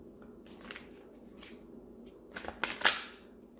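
Tarot cards are shuffled close by in a quiet room, soft papery riffles coming in short bursts and building to a few sharper snaps near the end.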